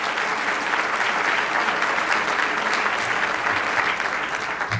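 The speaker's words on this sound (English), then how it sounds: "aren't we going to clap for that?" An audience applauds at a business awards event, steady dense clapping from a full room, loud and continuous throughout with no voices over it.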